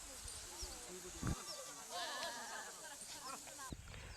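Goats on a pasture bleat repeatedly, with several overlapping calls at moderate distance over a steady outdoor background and some low rumble.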